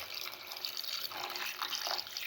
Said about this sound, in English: pour in 50 ml of water.